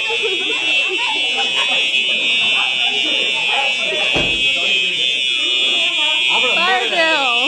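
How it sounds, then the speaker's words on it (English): A school fire alarm rings steadily and loudly throughout a fire drill, its constant buzzing tone running beneath excited students talking and shouting nearby. "Second fire drill"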